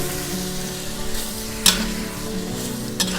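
Macaroni with sausage and tomato ketchup sizzles steadily while being stir-fried in a pan, with a couple of sharper scraping clinks from the utensil against the pan, no talking.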